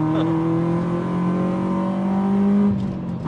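A Peugeot 206 S16 with a naturally aspirated engine and a modified exhaust line revs up loudly, its steady engine drone climbing slightly in pitch before easing off near the end.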